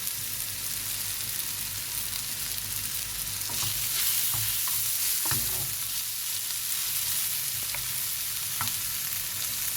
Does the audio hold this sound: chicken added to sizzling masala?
yes